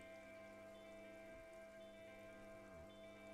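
Rain falls steadily in the Fatal Frame 2 Remake video game, a soft continuous patter over a low sustained ambient drone, with no voices.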